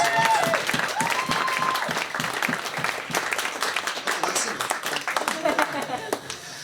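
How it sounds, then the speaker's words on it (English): A room full of wedding guests applauding, steady close clapping that gradually thins out, with a few voices and cheers mixed in. "just a quick round of applause for them"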